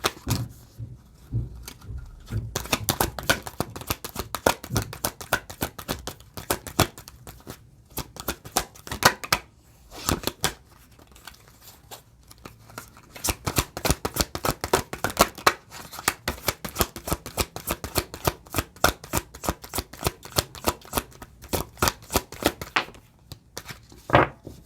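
Playing cards shuffled and dealt in quick riffling bursts of crisp, rapid snaps, close and fairly loud, running almost continuously with a brief lull near the middle.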